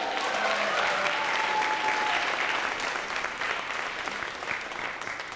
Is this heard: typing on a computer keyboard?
no